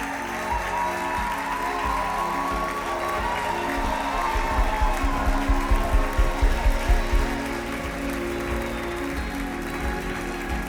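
A church congregation applauds and cheers loudly, sustained clapping over a background of music-like tones, with a burst of rhythmic unison clapping in the middle before settling back into general applause.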